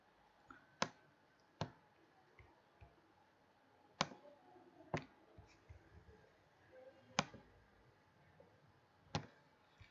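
A computer mouse clicks in a video editor, sharp isolated clicks spaced irregularly about a second apart over a quiet room background.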